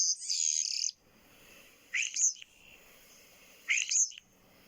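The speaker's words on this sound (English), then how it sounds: "It's the European Starling, our tonight's bird." A recorded European Starling call plays as three distinct bursts of harsh, whistly chirps and rasping notes, separated by short quiet gaps, clear and alone.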